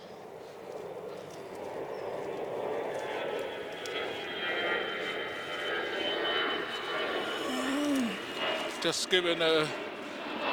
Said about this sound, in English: Sorry about the aeroplane noise as usual.